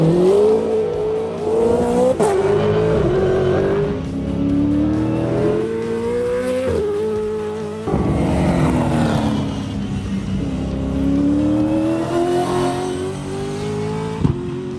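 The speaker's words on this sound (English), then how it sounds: "that Camaro with Brock Feeney and the Mustang with Alex Davison at the wheel hit the racetrack, depart the pit lane for the very first time" Gen3 Supercars Camaro and Mustang race cars pull out of pit lane for their first laps, a loud continuous engine drone rising through the gears, with no voices over it.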